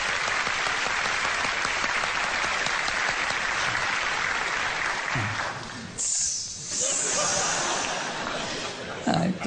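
Applause from a television talk-show studio audience, a dense, steady patter of many hands that briefly thins partway through, then swells again.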